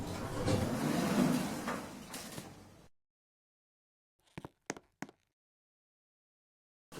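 Lift doors in a Hong Kong footbridge lift slide shut with a long rumbling glide, followed by silence and a few sharp clunks and taps as they settle.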